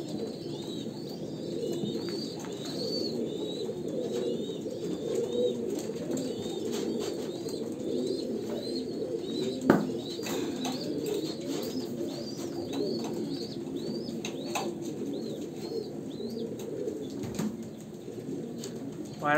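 Kalanka pigeons of a pure Andhra bloodline coo steadily at close range, low rolling calls overlapping throughout, with occasional sharp wing flaps and rustles breaking through.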